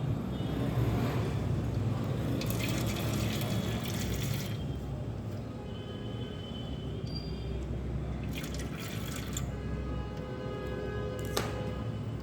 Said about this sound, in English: I am now filling up the aluminum can with water.